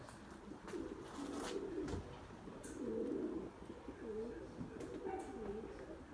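A white male Bucalı tumbler pigeon cooing in repeated soft, low rolling phrases at a moderate distance over faint outdoor background noise, with brief rustles and taps between calls.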